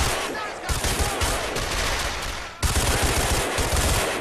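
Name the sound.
gunfire in LCPDFR video game shootout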